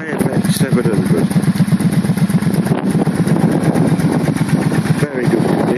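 A Kawasaki KFX 700 quad idles with a rapid, loud, steady putter that is close and continuous, with a brief dip near the end.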